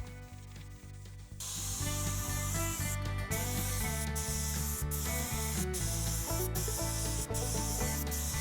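An InoKraft D1 LVLP air spray gun sprays primer, a loud continuous hiss that starts after a quiet second and is broken by several short gaps as the trigger is released and squeezed again, with no talk.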